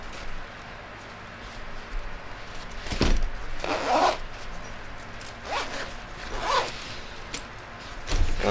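Zipper being pulled open on the small compartments of a bag, a few separate rasping zips spaced apart against a quiet room background.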